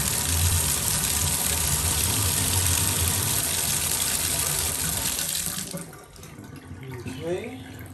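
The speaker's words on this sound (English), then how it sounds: "all I have to do now is turn the water on and screw it back in" Water running hard from a just-repaired shower faucet, a steady loud rush that drops off after about six seconds, with brief faint sounds afterward.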